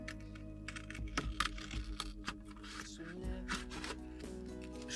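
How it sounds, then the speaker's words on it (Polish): Scissors snip a circle out of stiff scrapbooking paper, a series of crisp, close cuts and paper rustles in uneven rhythm with no talk. "Ale dobra, wytnę sobie to kółko."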